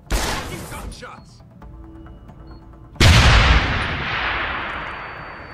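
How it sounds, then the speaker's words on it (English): Gunfire in the video game Deus Ex: Human Revolution: a loud burst opens, and after a quieter stretch a sharp heavy blast hits and decays into a long rumbling tail. "gunshots."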